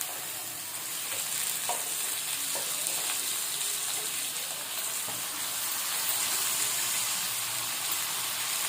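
A kilo of chicken sizzles and fries in a pan for gongura chicken curry, a steady bright hiss with occasional crackles and light stirring, close and constant.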